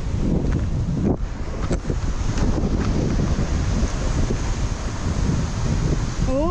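Sea water surging into the narrow Bamanghal rock gorge at Hedavi beach on the Konkan coast, a steady loud roaring wash of surf with wind buffeting the microphone throughout and no voices.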